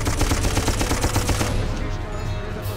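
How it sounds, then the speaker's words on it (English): A loud, rapid machine gun burst chatters close-up in the time-travel shooter Darkest of Days, then cuts off and leaves a rumbling tail of battle noise. "The machine gun can overheat."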